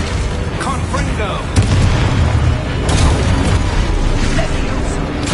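Confringo blasting spell explosions in the Hogwarts Legacy video game, loud booming blasts layered over dense combat noise and spoken spell calls.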